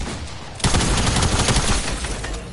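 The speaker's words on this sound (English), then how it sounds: "Oh, I hit the shorty gun." A shotgun, nicknamed the shorty, fires in a video game, with a sudden loud blast followed by a dense burst of repeated shots and rattling that tails off over about two seconds.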